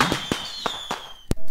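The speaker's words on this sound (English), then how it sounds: "Hey, look, there's some fireworks going on this time." Fireworks go off outside in a quick series of sharp cracks and pops, several bursts within a second or so, loud and close.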